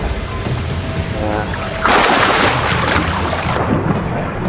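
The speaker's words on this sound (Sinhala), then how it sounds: "මේ වහිනානේ අප්පා" A heavy rush of rain and wind in the video game Assassin's Creed IV: Black Flag suddenly swells in, loud and continuous, over a low rumbling background, then drops off abruptly near the end.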